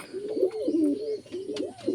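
Pigeons coo in a loft while feeding their young chicks, soft rolling coos repeating in a steady rhythm at close range with faint chirps, no talk.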